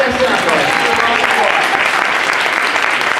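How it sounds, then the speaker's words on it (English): Loud, dense applause from a convention panel audience, a continuous wash of clapping at full volume that fills the whole moment with no break. "Let's give her a round of applause."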